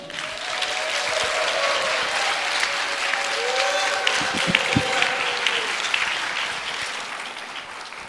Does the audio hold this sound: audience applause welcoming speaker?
yes